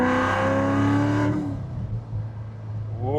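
A supercharged Corvette C7 accelerates hard in a rolling pull, its engine note climbing loud and near, then dropping off after a shift before it starts to rise again.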